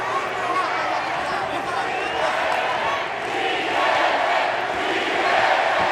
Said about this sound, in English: the chant from the crowd